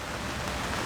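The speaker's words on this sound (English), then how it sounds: "And it's raining" Rain falling steadily outdoors during an engine-removal job on a stripped Mercedes 190E, a dense, even hiss of drops with no gaps across the short moment.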